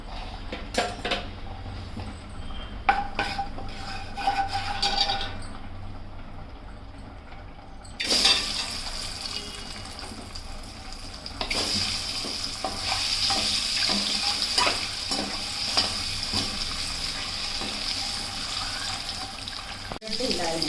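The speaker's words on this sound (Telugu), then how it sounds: "కొంచెం అంత ఉప్పు, ఎగ్గులు వేసుకొని" Eggs, salt and turmeric are stirred and frying in a pan while cooking egg biryani, with steady sizzling, clinks of a utensil against the pan and a brief running-water sound nearby.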